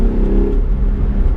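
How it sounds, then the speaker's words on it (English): A Hyundai Genesis Coupe 3.8 V6 revs with a loud, close, steady rumble throughout the brief moment. "Love the sound of this V6."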